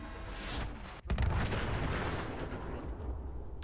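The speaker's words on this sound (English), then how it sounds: "exploding robots" Robots exploding in the video game Fallout 76: a loud, booming blast hits about a second in, followed by a sustained rumbling roar and crackle that keeps going, with no talking.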